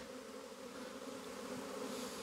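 Honeybees in an apiary buzzing in a continuous, steady drone, like a swarm close by, with no voices.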